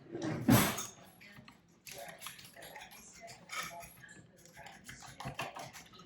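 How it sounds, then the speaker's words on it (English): Two whole eggs are whisked in a bowl for healthy French toast, producing quiet, rapid clicking and tapping that comes in short uneven bursts. "And now I'm going to whisk these eggs up."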